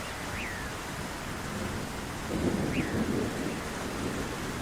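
Cartoon rain falls steadily and heavily, with low rumbling thunder building partway through. The rain is a constant hiss, and the thunder rolls underneath it with no voices.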